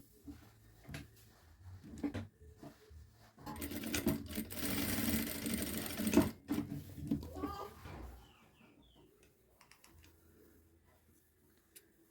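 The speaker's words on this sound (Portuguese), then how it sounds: "Eu vou só passar uma costura aqui, ó, rente, né, com essa parte aqui das costas" A domestic sewing machine runs a steady stitching burst for a few seconds while sewing a seam on children's clothing, close and fairly loud, then stops, followed by faint handling sounds.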